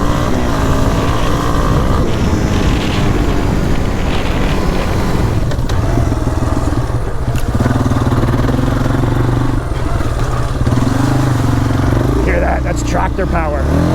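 Yamaha Warrior ATV engine roaring loud and close throughout a ride, a steady droning note that rises and falls with throttle, with wind buffeting and a rider talking over it.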